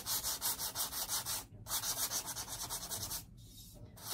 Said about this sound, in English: It's just been sanded just a little bit